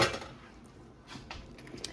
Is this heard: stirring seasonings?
yes